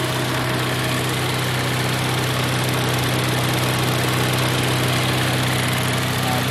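A diesel engine idles during a low fuel rail pressure diagnosis, giving a loud, steady, continuous mechanical drone with an even vibrating hum throughout and no talking.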